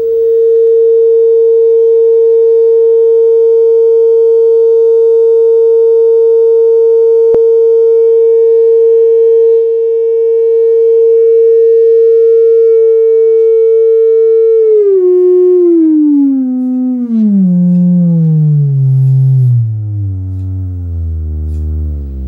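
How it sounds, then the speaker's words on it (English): A loud, pure test tone from a tone generator plays through a TPA3116D2 class D amplifier. It holds a steady pitch for about fifteen seconds, then steps downward, growing buzzier with harmonics as it drops. "Just gonna hook up my test clips here. To my tone generator."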